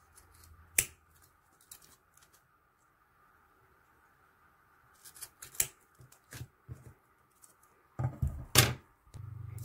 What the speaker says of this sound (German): Und jetzt schneide ich den Rest mit der Schere ab.